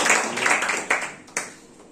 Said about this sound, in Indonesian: Yang percaya mau dipakai Tuhan, boleh berikan tepuk tangan yang meriah buat Allah kita